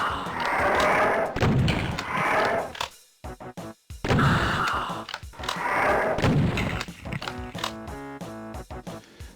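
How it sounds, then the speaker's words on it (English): The super shotgun fires in the PS5 game Doom Zero, map 18. Heavy booming blasts come in two paired bursts, each followed by reloading clicks and mechanical clatter, all loud and close. "just blast them with your super shotgun"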